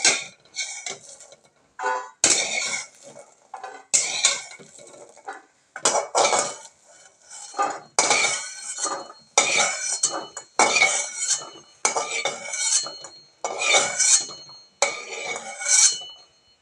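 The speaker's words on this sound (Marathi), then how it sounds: "तर सर्वप्रथम मी एका डिशमध्ये काढून घेते" Roasted peas being scooped out of a pan into a serving dish with a metal utensil, heard as a series of repeated clattering scrapes and clinks in a steady rhythm, close by with no talking.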